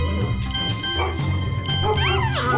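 Labrador dogs yip and whimper with short barks amid a busy indoor scene, layered over background music and other noise, with a rising whine near the end.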